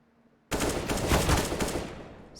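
A sudden close burst of rapid automatic gunfire from a Counter-Strike match cuts in after a quiet moment, a dense rattling volley that stays loud for about a second and a half before tapering off, with no talk.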